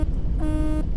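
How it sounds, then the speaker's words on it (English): Air horn on a Freightliner FLD truck mod in American Truck Simulator, sounding as one steady, loud, buzzy chord for about half a second amid low engine rumble, with no talk. "And air horn."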